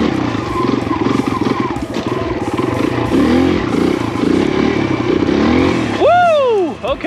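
A Kawasaki KLX140RF dirt bike engine revs on a wooded trail, its loud, close rattling drone rising and falling while a rider talks over it, ending in a sharp rising whine.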